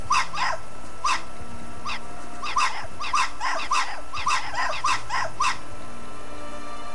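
A guard dog barks repeatedly in Hitman: Blood Money, a run of sharp, fairly close barks and yips in irregular bursts over a steady low game ambience, with no talking.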